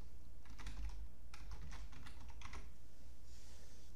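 Someone types a Wi-Fi password on a computer keyboard, quick bursts of close, crisp keystrokes separated by short pauses, quiet and with no voices.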